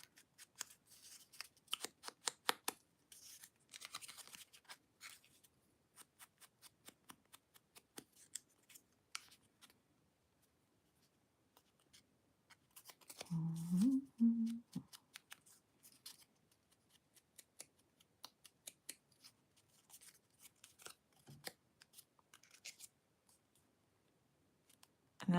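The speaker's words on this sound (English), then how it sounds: "The little flip, flip, flip, flip, flip, flip" Paper pages of a handmade journal being flipped, quick papery flicks in bursts, some rapid and some spaced out, soft and close in a quiet room with a short low murmur partway through.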